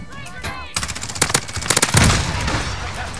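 Rapid automatic gunfire in a Modern Warfare multiplayer match on PC, close sharp bursts of shots crackling in quick strings after a brief lull, followed by a lingering rumble.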